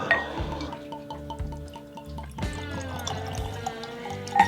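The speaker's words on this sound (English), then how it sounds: "Let's pour a little." Redwood Empire blended whiskey is poured into a glass, a short liquid pour with gurgling and drips over a steady background hum, no talking.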